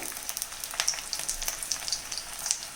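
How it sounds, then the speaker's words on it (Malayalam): Garlic and green chillies sizzle steadily in hot oil in a pan alongside coconut pieces, a close, continuous crackle with sharp little pops throughout. "ഇനി നമുക്ക് വെളുത്തുള്ളി ഇട്ട് കൊടുക്കാം. പച്ചമുളക്,"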